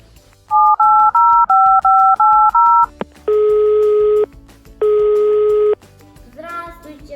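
A telephone number is dialed as a quick run of eight dual-tone beeps, followed after a brief click by two long, loud steady tones of the busy signal, then faint sounds at the end.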